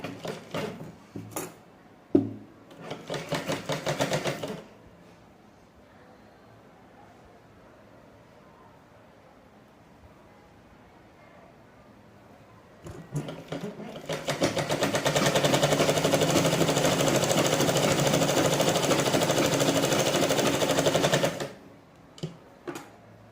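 A sewing machine stitches the lining strip of a forex blouse with piping. Two bursts of fast, even machine stitching come through: a short run at the start, then a quiet pause, then a longer steady run up close.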